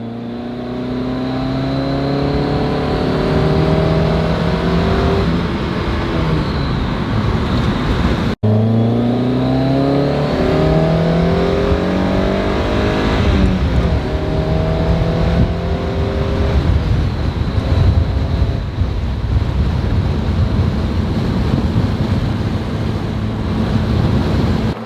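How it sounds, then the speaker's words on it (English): A Mazda Miata pulls hard in third gear from about 35 mph with the throttle floored, its engine note climbing steadily and loudly through the rev range, layered over heavy wind and road roar. "I'm gonna show you guys a third gear acceleration from about 35 miles per hour"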